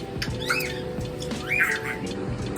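Two short, shrill cockatiel squawks, about a second apart, rise over a steady background hum, close and fairly loud.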